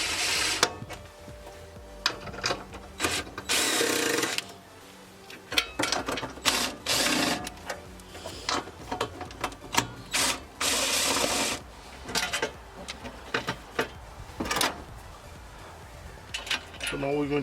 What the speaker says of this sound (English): Now we're going to remove these 4 bolts.